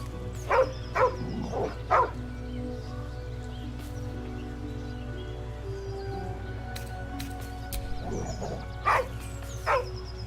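A dog in Baldur's Gate 3 barks in short clusters of two or three sharp barks near the start, falls quiet, then barks again toward the end over a steady game ambience.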